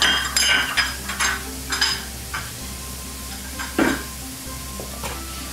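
Mushrooms brown and sizzle in a hot pan, a steady close frying hiss broken by several sharp scraping stirs and light utensil clinks against the pan, with no talking.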